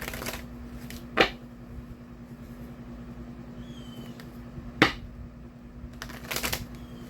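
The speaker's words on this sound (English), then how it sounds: "I'm just going to do a quick shuffles." A deck of Soul's Journey oracle cards is shuffled quickly by hand, with soft continuous riffling and a few sharp snaps and taps standing out, close to the microphone with no talking.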